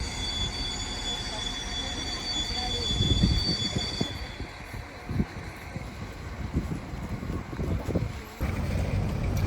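Train rolling into a station with high, sustained wheel squeal, rumbling clatter of cars, and a steady mechanical drone underneath.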